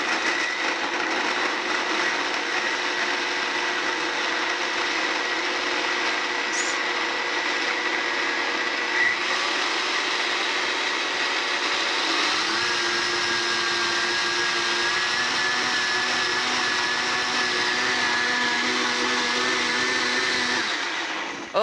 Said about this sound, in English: So now we're gonna get the rest of the mixture in here, all into our blender, every little bit.